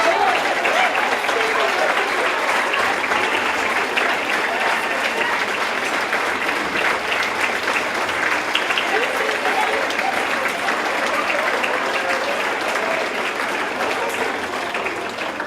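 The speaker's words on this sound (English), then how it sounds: "let's give everyone a round of applause" A standing audience at an Inspiring Women awards evening gives nominees a long, steady round of applause, even dense clapping with crowd murmur throughout.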